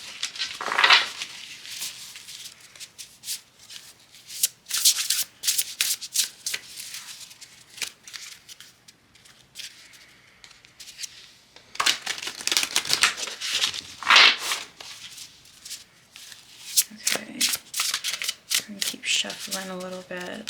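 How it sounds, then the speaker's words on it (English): Oracle cards being shuffled in bursts of crisp papery riffling and slapping, with quiet pauses between and light handling noise near the end. "Shuffling a little bit."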